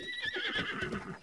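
A horse in Breath of the Wild gives a short whinny, heard up close and moderately loud, with a faint rustle and clip-clop of movement beneath it.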